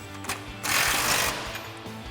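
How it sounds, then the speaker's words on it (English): An impact wrench with a 13/16 socket tightens suspension lift bolts on a Toyota Tundra in one short rattling burst of under a second, followed by quieter clatter. "tighten these down using our 13/16 socket on our impact and a 7/8 wrench"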